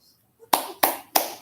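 Three sharp, loud hand claps land in a steady rhythm after a brief quiet moment, each one standing alone with no talking over them.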